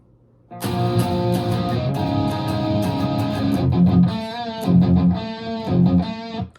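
Distorted electric guitar strums sustained power chords, ringing out loud and steady before shifting into a couple of choppier, bending phrases near the end.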